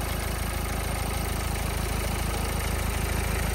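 A 2011 Nissan Micra XV diesel engine idles with a steady, even low clatter, close and continuous for a few seconds, no voices.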